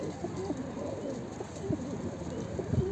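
Pigeon cooing low and soft against steady background noise, a few short coos spread through the clip, the bird having come from Pendik.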